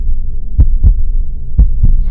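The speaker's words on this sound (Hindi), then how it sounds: "एमिली की दिल की धड़कन की आवाज इतनी तेज हो गई थी" A heavy heartbeat sound effect thumps in two paired beats, deep and loud over a low droning hum, for a horror story scene.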